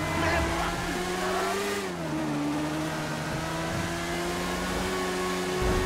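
A motorcycle engine in the GTA V video game drones loud and steady throughout, with a brief dip in pitch near the middle before settling back into a continuous hum.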